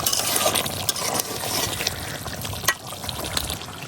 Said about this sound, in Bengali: এই পানিটার মধ্যে মাংসটা খুব ভালো করে আরো কষাই নিলাম।